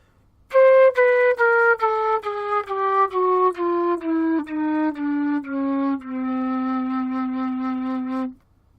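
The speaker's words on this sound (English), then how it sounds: "So a C chromatic scale on the concert flute descending" A concert flute plays a descending C chromatic scale, about a dozen clear separate notes stepping down, ending on a long held low note.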